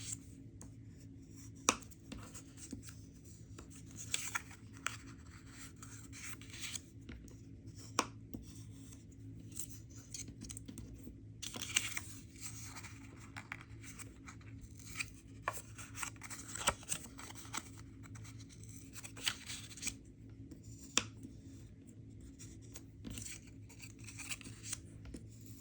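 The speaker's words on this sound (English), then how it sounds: "we're going to fold over with our bone folder" Card flaps are folded along scored lines with a bone folder. The result is quiet, close creasing and rubbing, with scattered soft taps and scrapes of paper repeating irregularly over a low background hum.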